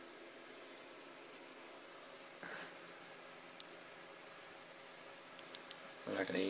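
A feeder cricket kept near fire-bellied toads chirps in a faint, steady, high trill that runs throughout, with a soft knock partway through and a louder bump at the end.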